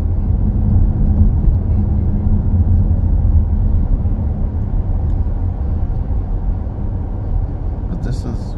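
Low, steady road rumble and engine drone inside a Volkswagen Arteon R-Line driving in sport mode, continuous and loud throughout, with a brief faint high rattle near the end.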